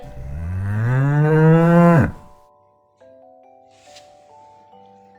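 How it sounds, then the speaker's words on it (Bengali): A single long cow moo, loud and close, rising then cutting off after about two seconds, followed by a quiet tonal chime-like melody. "গরু বাছুর দাঁড়িয়ে রয়"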